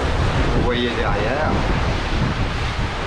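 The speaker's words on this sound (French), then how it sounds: "On a du vent, ce qui est magnifique, on a des belles, belles vagues," Wind and sea waves out on the open ocean during a sailing crossing from the Seychelles to Zanzibar, a steady loud roar of wind noise and surf throughout, with a voice speaking briefly near the start.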